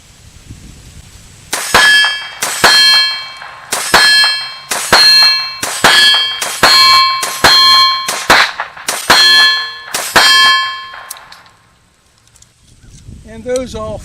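Ten .22LR CCI Mini-Mag rounds fire one after another at a steady pace, each sharp crack followed by a ringing clang from the steel targets, then quiet.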